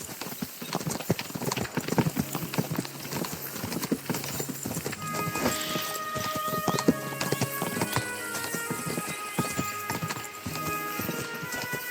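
Horse hooves pound at a gallop in the video game Kingdom Come Deliverance 2, a loud, fast, steady clip-clop that runs the whole stretch, with game music rising partway through.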